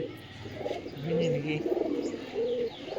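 A domestic pigeon, among a mixed loft of foreign and local Giribaz birds, coos in low, throaty repeated phrases that swell and fade across a few seconds, fairly close, with no talk.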